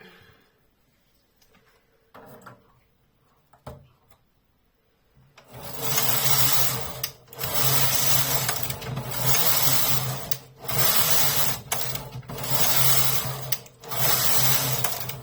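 A Zippy Plus knitting machine with an SRP60N ribber, its carriage run back and forth in loud rasping, whirring passes separated by short pauses, after a few quiet clicks and handling sounds.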